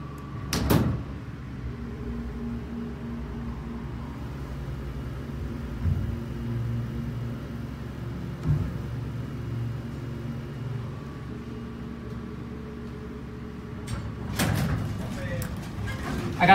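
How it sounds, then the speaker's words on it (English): A 1978 Otis hydraulic elevator motor runs with a steady, low, droning hum close by, with a door thud near the start and another clunk near the end. "Now we're going to start the motor with the doors closed."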